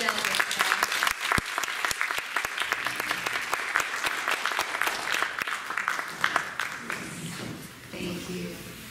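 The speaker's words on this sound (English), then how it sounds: "let's give everybody a round of applause. All the delegates." Sustained applause from a seated audience fills a high school Model United Nations closing ceremony, dense clapping for the delegates that carries on for several seconds before tapering slightly.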